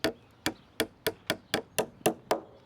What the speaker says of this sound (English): You put your forefinger on the back of your hammer, you get a lot more control for these smaller nails.